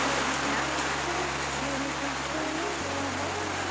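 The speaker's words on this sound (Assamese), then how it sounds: "ইয়াৰ বাহিৰত দেখিছেনে বৰষুণো দি আছে পুৰা ধাৰাখাৰে বৰষুণ দি আছে" Heavy rain falls steadily outside in a downpour, giving an even, continuous hiss that holds at the same level throughout, with only faint traces of a voice beneath it.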